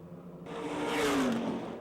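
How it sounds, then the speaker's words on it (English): A race truck limps slowly around a speedway oval toward the pits, its engine giving a steady mid-pitched drone with a gently rising and falling whine that swells in the middle and fades slightly toward the end. "Very slowly, and we will need a caution flag for Paul Hahn in truck number 7"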